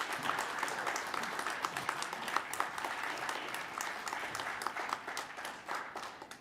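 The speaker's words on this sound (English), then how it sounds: "Please give a big round of applause to all of our award winners." An audience at a small business awards ceremony applauds the winners, a continuous, even patter of many hands clapping at moderate volume from across the room, tapering slightly at the end, with no voices.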